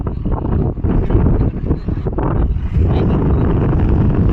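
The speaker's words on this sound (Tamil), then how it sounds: "காற்றடிக்குது" Gusting wind buffets an outdoor microphone during an Umrah pilgrimage trip in Saudi Arabia, a loud, steady low roar that swells and dips throughout with no voices.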